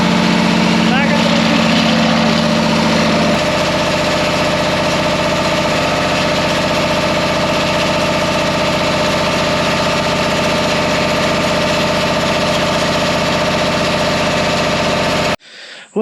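An Isuzu diesel generator engine runs at a steady idle, giving a loud, close, continuous rumble with vibration. The rumble keeps up for about fifteen seconds before abruptly cutting out.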